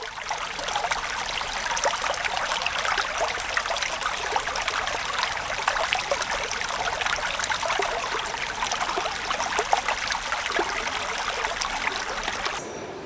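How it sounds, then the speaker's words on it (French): The 100-metre waterfall of the Irusta gorge in the Basque mountains pours down as a constant broad rushing hiss of falling water, steady and unbroken throughout. "sa cascade haute de 100 mètres qui tombe à grand fracas dans la vallée"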